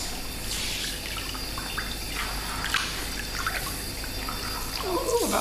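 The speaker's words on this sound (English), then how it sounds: "Scott, I need some hot water on me." Hot water runs steadily from a tap into a sink or tub, a continuous close splashing hiss with a few brighter drips near the end.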